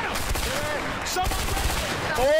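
Rapid gunfire crackles in A Way Out during a car chase, dense overlapping shots with a whining ricochet or two, and excited voices mixed in over the shooting.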